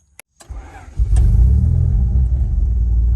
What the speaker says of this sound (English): We have started our engine.